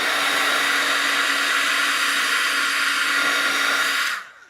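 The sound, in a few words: drying mail art with a dryer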